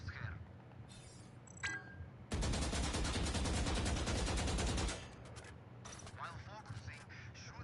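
A long, loud sustained burst of automatic gunfire from Valorant runs for about two and a half seconds, bracketed by quieter single shots and game clicks, with no talking.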